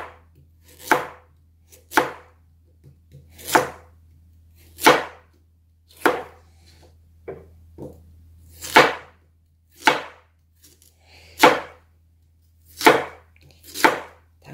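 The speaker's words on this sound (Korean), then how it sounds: "당근도 잘라주고요." A knife chops through an unpeeled carrot on a cutting board, with about a dozen crisp, close strokes at a steady, unhurried pace and no voices.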